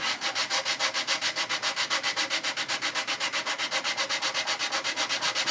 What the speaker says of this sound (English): maintain your sanding stick flat against the bottom of the hull here.